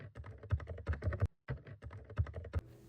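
Typing on a cheap $10 office membrane keyboard, a run of quick, soft clacking keystrokes in two bursts with a brief pause between, close and clear, no speech.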